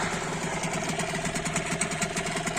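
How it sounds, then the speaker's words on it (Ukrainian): A Mercury 5 hp two-stroke outboard boat motor idling steadily, its even, rapid putter loud and close with no voices over it. "Моторчик Mercury п'ятерка."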